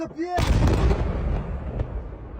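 Explosions near Zhytomyr hit as a sudden loud boom that rolls into a long, dense rumble, close and heavy, with a faint voice at the very start.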